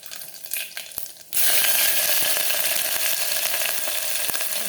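Chilies and bay leaves drop into hot oil, setting off a sudden loud, close sizzle that holds steady and crackling after a quieter moment of kitchen clatter.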